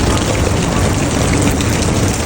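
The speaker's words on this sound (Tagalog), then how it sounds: "Malakas ang ulan." Heavy rain pours down in a dry desert country, a dense, loud, steady hiss of falling water that fills the space with no voices.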